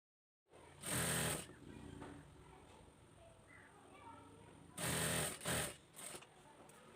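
Sewing machine stitching golden piping onto a child's abaya, two loud close bursts of motor whir separated by a quieter stretch of faint handling noise, with a short stutter of stitching near the end.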